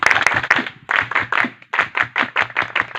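A group of students on a beach outing claps in unison in the 3-3-7 pattern, sharp, loud, tightly grouped bursts separated by short pauses.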